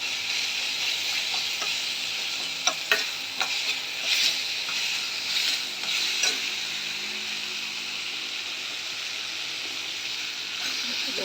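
Okra (bhindi) sizzles steadily in oil in a frying pan, a continuous bright hiss with scattered clicks and scrapes as it is stirred, close and even throughout.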